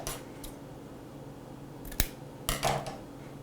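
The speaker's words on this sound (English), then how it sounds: "you're going to cut down to the end of the ribbon" Scissors snip through burlap ribbon for a wreath: a few quiet, crisp cuts, one sharper snip in the middle and a short rustling double cut after it, close by in a quiet room.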